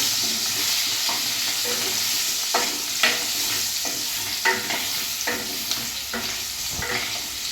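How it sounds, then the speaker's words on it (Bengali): Oil sizzles steadily as potatoes fry in a pan while a spatula scrapes and stirs at intervals, close and clear, with no voices. "এটা আমি লাল লাল করে ভাজব"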